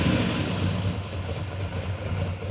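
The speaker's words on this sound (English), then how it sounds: "It's barely idling right now" A JDM car engine with independent carburetors barely idles, giving a low, lumpy, uneven rumble that stays steady and close throughout, with no voices.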